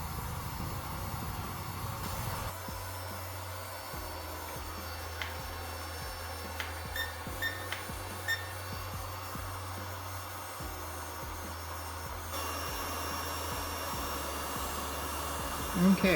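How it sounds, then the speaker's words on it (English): A heat tool slowly warming a dent for paintless dent repair gives a steady, even whir that runs unbroken and fairly quiet the whole time, with a low hum underneath. "And we're just going to slowly heat this up."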